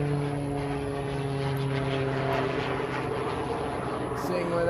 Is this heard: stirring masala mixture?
no